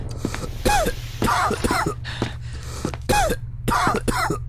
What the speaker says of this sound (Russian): Не кашляй.